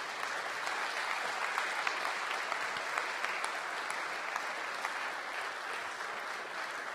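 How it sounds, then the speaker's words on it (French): Steady applause from an audience at the IMOCA 2012 sailing world championship awards ceremony, a dense patter of many hands clapping evenly for several seconds without voices. "François Gabard, I'd like everyone to applaud him."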